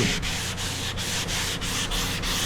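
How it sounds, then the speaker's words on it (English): Steady rhythmic back-and-forth sanding with a block on body filler, a raspy scraping stroke repeating roughly every third of a second, close and continuous. "you'll actually get on your block when you're first sanding it"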